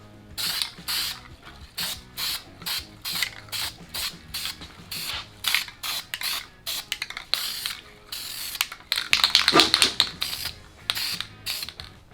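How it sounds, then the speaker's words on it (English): Aerosol spray paint fogging lightly over old Chevy C10 hub caps, heard close and loud as a run of short hissing bursts mixed with clicking and rattling, without talk. "now I'm just going to give it a light fog with the paint in the darkened areas"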